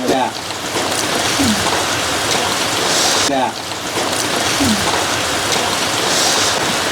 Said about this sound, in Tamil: நல்லா ஜோன்னு மழை பெய்ஞ்சிட்டு இருக்கு